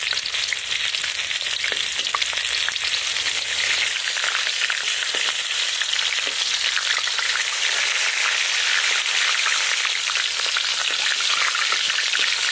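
Food frying in hot oil in a home kitchen pan, a loud, continuous crackling sizzle with dense popping spits that runs unbroken throughout, with no voices.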